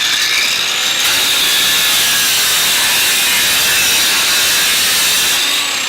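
A variable speed angle grinder with a 50 grit pad beveling a chipped tile edge, heard as a loud, continuous, close grinding hiss that barely changes through the whole stretch.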